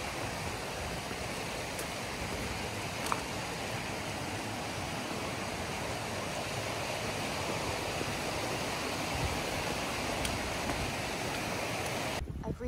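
River beside a woodland trail in a glen, a steady, even rush of flowing water that holds at one level throughout.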